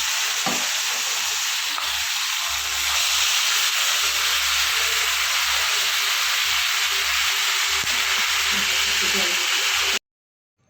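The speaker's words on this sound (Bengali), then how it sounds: "তেলের মধ্যে গোটা জিরে আর শুকনো লঙ্কা ফোড়ন দিয়ে দেবো" Steady, loud sizzling of whole cumin seeds and dried red chillies frying in hot oil, hissing continuously for about ten seconds before cutting off abruptly.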